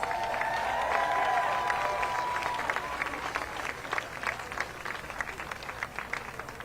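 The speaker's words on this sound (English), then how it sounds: "Let's give her another round of applause." A crowd at a voting rights march in Atlanta applauds steadily, a dense wash of clapping that carries on for several seconds and slowly thins toward the end.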